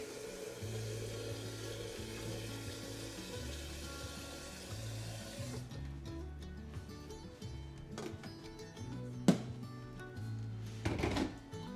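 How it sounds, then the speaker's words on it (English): Water runs from a kitchen sink tap while a kettle is filled, a steady rushing flow with a strange groaning, droning tone underneath and a couple of sharp knocks near the end. "Demon sink. I know. Why does it sound like that?"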